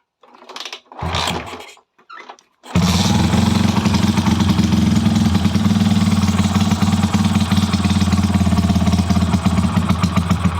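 A motorcycle fitted with a cone-shaped exhaust pipe starts after a few brief mechanical clicks and rattles, then idles steadily with a loud, close, throbbing rumble and no talking.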